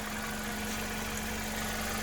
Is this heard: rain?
no